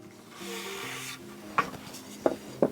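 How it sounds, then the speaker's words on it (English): Wire twisted around a wooden dowel rod for a Christmas woodworking decoration, making soft rubbing and rasping friction with a few sharp creaks and clicks near the end, close and fairly quiet, with no talking. "twist my wire around my dowel rod"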